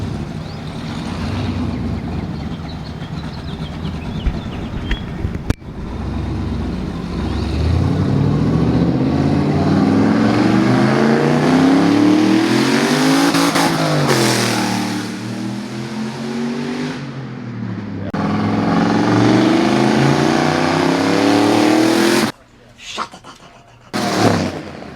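Turbocharged truck (OBS) driving down the street, engine revving and rising through gears as it passes, loud and near, then falling away before cutting off abruptly near the end, with some talk in the background.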